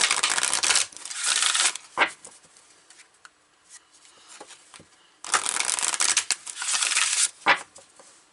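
Tarot cards handled and shuffled up close: two long bursts of dense papery shuffling, with quieter rustling and tapping of the deck between them.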